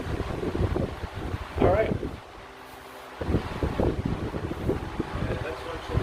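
Ventisol high velocity wall mount fan blowing at close range, a steady rushing wind buffeting the microphone, briefly dropping away mid-clip before returning, with someone speaking over it.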